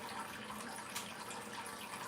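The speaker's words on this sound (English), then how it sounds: "Let's see how much water he dumps" Buster the cockatoo tipping out water, a faint, steady wash of pouring and splashing that runs unbroken for about two seconds.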